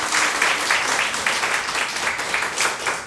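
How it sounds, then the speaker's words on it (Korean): A church congregation at a Sunday worship service gives a round of encouraging applause, an even, sustained clatter of many hands filling the room. "우리 격려의 박수를 한번 좀 보내드리겠습니다"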